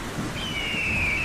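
A cartoon thunderstorm brings a steady wash of heavy rain and a low rumble, with a thin whistling tone drifting across the middle of it.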